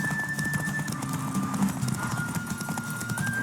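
Horse hooves clip-clop steadily with an occasional whinny in the video game The Witcher 3: Wild Hunt, set against a busy background of crowd noise and a thin, sustained high tone.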